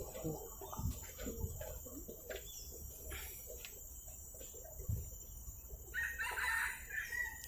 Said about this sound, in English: There's a rooster inside,